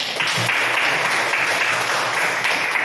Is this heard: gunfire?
no